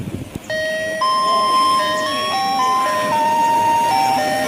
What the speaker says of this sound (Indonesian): Wow, ternyata itu ada Doraemon lagi main gerobak es krim